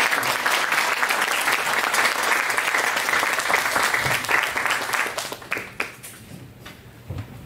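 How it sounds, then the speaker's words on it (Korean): An audience at a lecture in Busan claps to welcome a professor to the stage, a loud dense round of applause that holds steady and then thins into scattered last claps. "우리 우희종 교수님 박수로 모시겠습니다"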